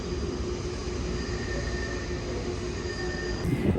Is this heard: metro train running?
yes